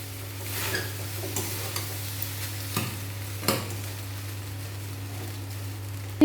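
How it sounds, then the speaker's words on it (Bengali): Boiled rice is stirred in hot ghee in a pan for vegetable fried rice, with a steady close sizzle and occasional light spatula knocks against the pan. "এরপর ভাত ঘিয়ের মধ্যে নাড়াচাড়া করে নেব।"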